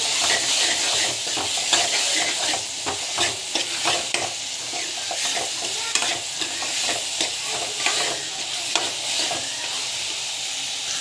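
Spices and asafoetida sautéing in a pan for kara kuzhambu give a loud, continuous sizzle and hiss, broken by frequent scraping stirs, with no talking.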